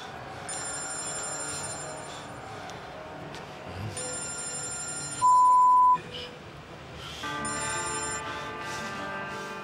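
An old-style telephone bell rings in repeated bursts, fairly close and clear, with a short steady tone between rings and no voices.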